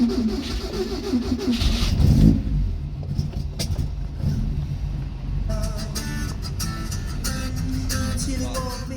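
A car engine fed by Weber carburettors cold-starts from fully cold: a sharp crank and catch, then a rough, lumpy idle that rumbles on unevenly for several seconds, close and loud with no talk.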